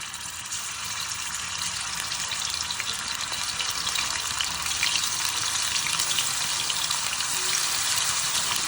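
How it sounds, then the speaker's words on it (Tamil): Steady crackling sizzle of dry fish frying in oil, continuous and fairly close, with a hissy watery texture and no talking. "அதுக்குள்ளே நம்ம கருவாடை பொறிச்சிடலாம்"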